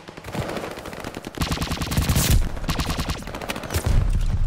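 Rapid, loud automatic gunfire in a ranked online shooter match around a contested hardpoint, with dense overlapping bursts of machine-gun fire and heavy low-end impacts throughout, with no talking.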